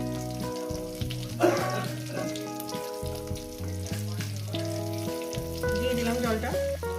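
Spice paste sizzles with onions in hot oil for a rohu fish curry, a steady crackling fry running throughout, with a persistent musical tonal hum layered over it.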